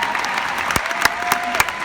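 An audience at a large conference summit claps in a dense, continuous burst of applause, close and fairly loud throughout the short stretch.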